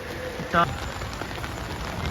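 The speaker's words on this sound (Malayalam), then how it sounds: "നല്ല മഴയുണ്ട് നമ്മൾ ഇങ്ങോട്ട് വന്നപ്പോൾ നല്ല മഴ" Rain falling on Mittai Theruvu, the old market street in Kozhikode, a steady, even hiss of drops on surfaces that runs the whole time, with one brief louder knock near the start.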